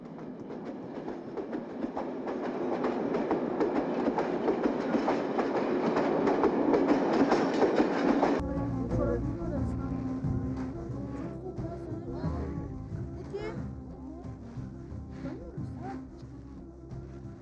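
A train rumbles past nearby with a loud rushing roar, then settles into steady clickety-clack of wheels over rail joints.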